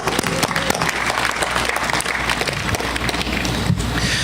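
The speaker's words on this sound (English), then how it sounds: "Let's, one applause for everybody." An audience at a winery opening and mural art installation applauds, a dense, steady wash of clapping held loudly throughout without a break.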